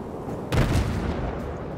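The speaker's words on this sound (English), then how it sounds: "There I go, firing again." Heavy naval cannon fire from a cruiser's main battery in World of Warships: one loud, deep boom with a sharp onset, followed by a rumbling decay and low battle ambience.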